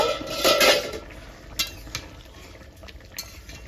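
Metal lid lifted off a cooking pot of broccoli, a short clanking scrape near the start, then a few lighter clinks over a faint simmer.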